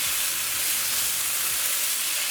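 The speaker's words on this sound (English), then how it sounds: "So give this a mix." Gluten-free pumpkin and yam dumplings tossed and mixed in a hot pan with pepper, a loud, steady hissing sizzle running throughout with soft low stirring bumps underneath.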